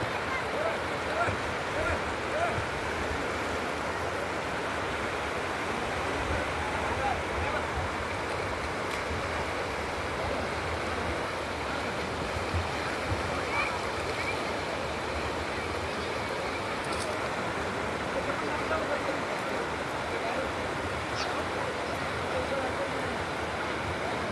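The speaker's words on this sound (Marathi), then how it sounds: "इथे खूप पाव पावसाचा पाऊस मोठा पाऊस आला खूप पाणी येतं आहे नदीला" Swollen river in a Konkan village below a large Sahyadri hill rushes steadily after heavy monsoon rain, a continuous broadband roar of flowing water held at an even level throughout, with no clear voices above it.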